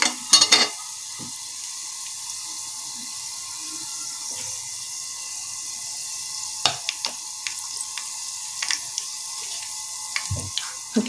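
Chana dal fries in a pan of oil for brinjal rice, giving a soft steady sizzle broken by a few sharp scraping and clinking stirs.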